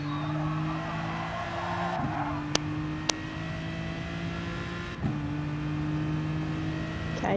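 Corvette race car driving at speed in a qualifying session, a steady engine drone with brief dips at gear shifts around two and five seconds, plus two sharp ticks in between, moderately loud and with no talk.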